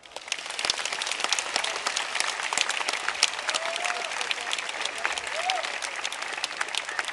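A crowd at the opening of the 22nd International Folklore Festival claps steadily, a dense, continuous applause that holds its level throughout with no talking.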